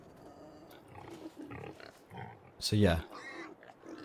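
Pigs in Farming Simulator 22 grunt and oink from a crowded pen of thirty animals, with a louder squealing burst near the end, and someone talks over the sounds.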